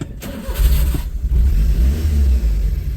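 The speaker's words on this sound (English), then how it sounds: "Running like a top on all three cylinders of raw horsepower" A three-cylinder hot rod buggy engine runs steadily after a spark plug repair, a loud, close, throbbing low rumble that holds an even idle throughout with a slight rise near the start.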